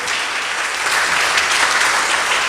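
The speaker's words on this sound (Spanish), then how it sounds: "Dale un aplauso a Jesús si querés darle fuerte, fuerte" A church congregation at a Sunday worship service claps loudly for Jesus, a full, energetic burst of applause that holds steady and close for a couple of seconds with no voices over it.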